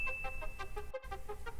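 Electronic notification chime in a repeating ding-dong pattern, several bright bell-like tones in steady rhythm, fairly quiet and heard alone with no talking.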